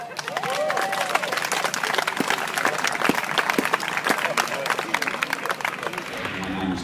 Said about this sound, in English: A big round of applause for Mick Woiwod.